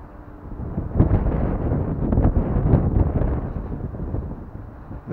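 Strong outdoor wind buffets a microphone, producing a loud, continuous low rumble that surges in gusts and never lets up, with no voices present.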